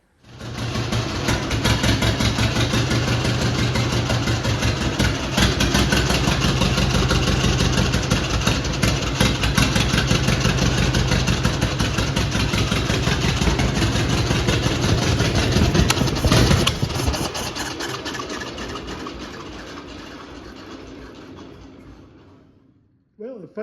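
A 1926 John Deere Model D tractor engine running, a loud, steady, chugging rhythm close by that holds for most of the stretch before sputtering and dying out as the fuel runs dry.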